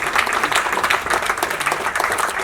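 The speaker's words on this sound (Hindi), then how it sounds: "तालियों की गड़गड़ाहट एक बार फिर से सुनाई देनी चाहिए।" Audience applause fills a hall at a foundation day arts event in Shimla, a dense, steady clatter of many hands clapping, loud and continuous.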